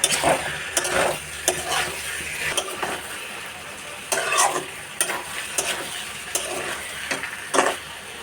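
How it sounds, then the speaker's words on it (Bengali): Tough chicken gizzards stir-fried in a pan, loud scraping strokes of a spatula recurring roughly every second over a continuous oily sizzle, close up and with no voices. "গিলেটা যেহেতু শক্ত তো গিলেটা কিছুক্ষণ কষিয়ে নিই"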